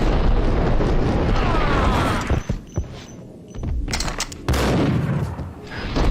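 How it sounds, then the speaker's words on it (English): Gunfire from the video game Max Payne: a dense, loud barrage of shots and booming blasts, briefly broken by a quieter gap of separate cracks before heavy firing resumes. "I barely dodged those bullets."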